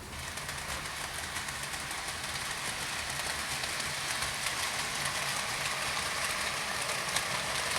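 A Princess Royal class steam locomotive running, giving a steady, continuous broadband rumble and hiss that holds at an even level throughout with no talk over it.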